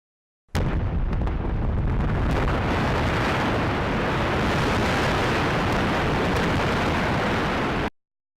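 A loud, sustained roar of explosives blasting into a mountainside while mining iron ore, starting abruptly and rumbling broadly and steadily for several seconds before cutting off.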